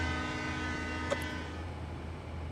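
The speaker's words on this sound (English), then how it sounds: "Horn's pretty good." A Santa Fe diesel locomotive sounds its horn on Cajon Pass in a desert train simulator, a steady loud chord held throughout over the low rumble of the engine.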